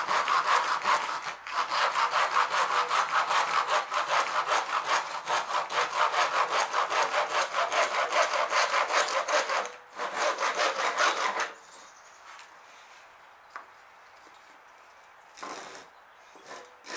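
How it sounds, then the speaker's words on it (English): A handsaw cuts off the end of a wooden bow-drill spindle on a chopping block, giving a fast, close, rhythmic rasp of back-and-forth strokes for about eleven seconds, then quiet with a few faint handling sounds. "saw off the end where you want your spindle to be"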